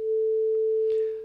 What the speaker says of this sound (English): 440 hertz played as a sine wave sounds like this.